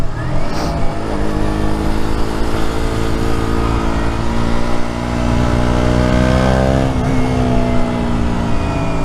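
A KTM Duke 125 motorcycle ridden along a winding road, its small single-cylinder engine droning loud and close, pitch rising and falling through gear changes and throttle, with steady wind rush.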